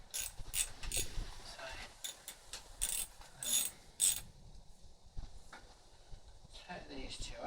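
A ratchet wrench removes 8mm bolts during a classic Mini engine strip-down, giving quiet, repeated clicking bursts against a low workshop background.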